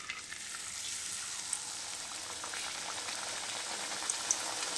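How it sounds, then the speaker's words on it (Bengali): Luchi, rolled Bengali puri dough, frying in hot oil, giving a steady, close hiss of bubbling fat that runs unbroken for a few seconds with occasional small pops. "তো দেখো এবার আমি লুচি দিয়ে দেব,"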